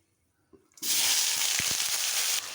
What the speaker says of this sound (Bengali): পেঁয়াজ আর টমেটোটা হালকা ব্রাউন করে ভেজে নেব।